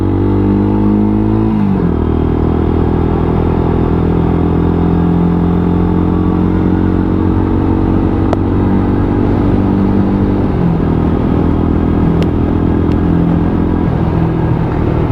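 A Lexmoto Tempest 125cc motorcycle runs loud and close on a test ride, its engine droning steadily with shifts in pitch as it changes gear and accelerates, and a constant rumbling throughout.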